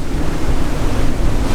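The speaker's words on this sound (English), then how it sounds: "we have the winds for it today" Strong wind roars over a sailboat in high 20s to 30s knot gusts, with messy seas and waves washing steadily alongside, a continuous loud broadband rush with no voices.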